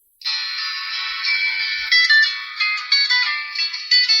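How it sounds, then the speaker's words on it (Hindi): A Nokia 1280 mobile phone rings its built-in tone at full volume, a bright, steady electronic melody of repeating notes that starts abruptly and plays continuously, close and loud, with no talking. "इसकी आप जो रिंगटोन है"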